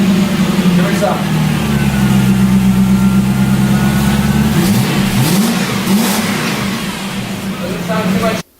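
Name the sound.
car engine revving with rear mufflers removed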